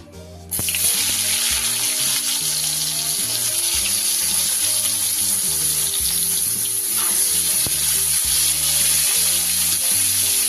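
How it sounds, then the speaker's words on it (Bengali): Eggplant frying in the same oil just used for lentil dumplings, in a kitchen making fenugreek leaf fry, crackles with a loud, continuous bright sizzle that starts abruptly and holds steady throughout. "এবার এই তেলেই আমি বেগুনগুলো ভেজে নেব"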